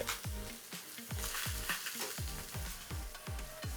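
Hot fat sizzles steadily as pork fries in a 16 cm frying pan while being stirred, with a series of soft scraping strokes at a regular pace. No one speaks.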